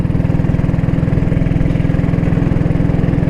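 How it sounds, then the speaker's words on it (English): A Norton Model 20 motorcycle engine idling close by, a loud, steady low thumping beat with a mechanical clatter on top, running alone without any talk. "The Norton makes a little more mechanical noise in the top end compared to the Ariel."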